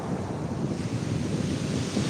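Close-in surf breaking steadily on a beach where someone is sea fishing, a continuous loud wash of waves mixed with wind buffeting the microphone, with no voices.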